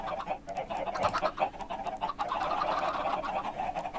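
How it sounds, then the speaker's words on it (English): Chickens in Minecraft cluck and squawk in a dense, overlapping flock, with a steady chorus of short calls close by. "a secret button door, which leads me down to a lot of chickens"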